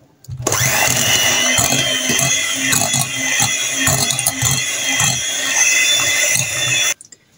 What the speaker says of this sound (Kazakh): Кремімізді блендерге үстіп араластырып аламыз.